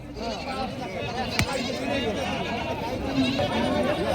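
Goats bleat amid a bustling village goat market in Jawala, Hingoli district, with wavering cries rising over constant crowd chatter and nearby talking voices.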